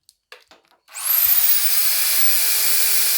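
Electric drill switches on after a few faint knocks, its motor whining up to speed and then running steadily and loudly on its own, used as a load during a household power-saving test.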